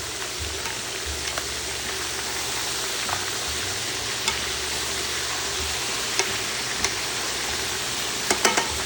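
Crispy pork chops fry in a pan and get flipped over, a steady soft sizzle running throughout with a few small clicks and scrapes from the turning, no voices.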